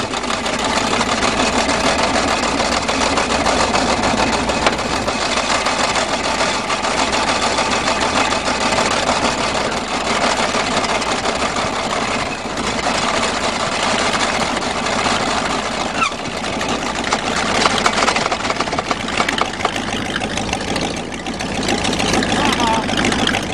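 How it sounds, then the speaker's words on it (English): A cranky Chevy 305 four-barrel V8 idling in December snow, its fan hitting the shroud, runs as a steady rough drone with a faint rattle, loud and continuous, while a person talks over it. "And the fan is hitting the shroud. I'm afraid to rev it, it'll probably stall."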